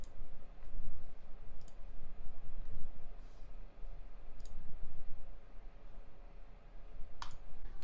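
Sharp, isolated mouse clicks land a few at a time over a quiet, hissy background while someone navigates a web browser, with no talking.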